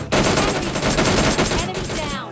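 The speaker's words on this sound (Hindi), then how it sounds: "तो इस वाले बंदे को भी डीपी के हेडशॉट से मार देते हैं" Rapid DP-28 gunfire in PUBG Mobile Lite, a dense, loud burst of automatic shots cutting down an enemy with a headshot, sustained for a couple of seconds with no talk.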